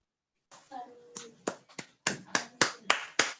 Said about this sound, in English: Everybody, please give a big round of applause for Ms.